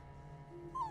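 Rex, a dog in Fallout: New Vegas, lets out a brief, high whimper near the end of a short, quiet stretch over a low steady game background hum.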